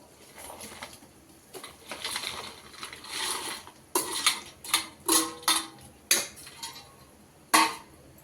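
Fried paneer cubes dropped into a curry pan with a tomato-cashew gravy, a series of sharp clinks and knocks against the pan coming in irregular bursts, fairly close over a quiet background.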